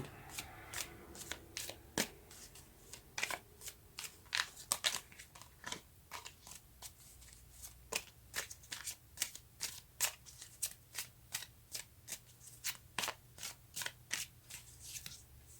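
Tarot cards being shuffled by hand, close up: a long run of crisp, rapid card snaps and riffles in an uneven rhythm, with no talking.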